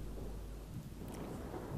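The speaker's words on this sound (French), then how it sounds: "Putain, il pleut toujours, il pleut tout le temps" Rain and a low rumble of thunder from The Sims 3 Seasons game fill a short stretch as a steady, faint wash with a deep rolling undertone and no talking.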